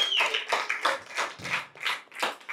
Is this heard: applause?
yes